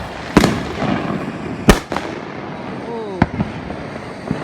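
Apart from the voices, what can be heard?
crackling fireworks going off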